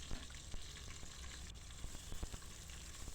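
Ginger garlic paste and green chillies fry in a pan for chicken biryani, giving a soft, steady sizzle dotted with small crackles and pops, fairly quiet and close.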